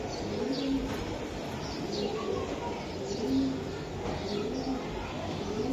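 Soft, low coos from flying pigeons (Giribaz, Racer and Pakistani breeds) repeat over a steady background hum, with faint chirps scattered throughout, fairly quiet and somewhat distant.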